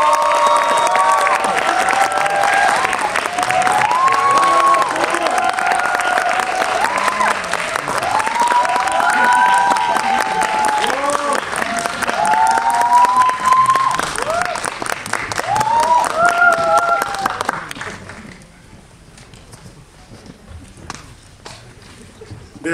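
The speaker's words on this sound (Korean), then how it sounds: "오늘의 게스트분들 큰 박수로 맞이하겠습니다" A large audience at a film Q&A event applauds and cheers loudly as guests arrive, sustained clapping with excited shouts over it that fades out toward the end to a few scattered claps.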